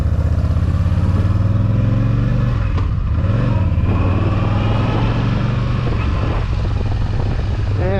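A Harley-Davidson, Suzuki Savage, Honda Magna or Yamaha Midnight Star motorcycle engine runs smoothly and steadily at close range, a deep, even idle with a brief rev near the middle, fairly loud throughout.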